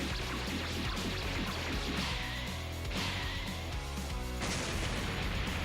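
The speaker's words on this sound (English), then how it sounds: "They're exploding." Rapid explosions pop and crash during an animated Dragon Ball AF fight, dense bursts layered under loud, intense soundtrack music with no quiet gaps.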